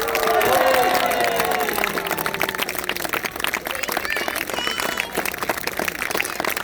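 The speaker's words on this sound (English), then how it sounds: "can I have a huge round of applause for the combatants" An outdoor crowd at a medieval combat show at Kenilworth Castle breaks into applause, with a burst of loud clapping at first that settles into sustained, fainter clapping and crowd noise.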